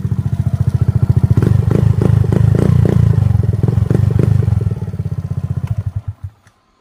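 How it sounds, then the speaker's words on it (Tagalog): A Suzuki Burgman 125 scooter fitted with an Akrapovic M1 muffler revs close and loud, a deep rapid exhaust pulse rising and holding through several throttle blips before dropping and cutting off at the end. "Sound check natin mga boss. Pakasolid. M1 Akrapovic para sa Suzuki Bergman."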